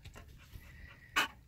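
A dog panting quickly close by, with soft rhythmic breaths and a brief whimper-like sound near the end.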